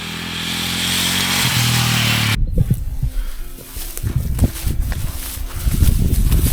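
Voge 300 Rally motorcycle engine roaring steadily up close before cutting off abruptly, followed by scattered clattering and rustling sounds nearby.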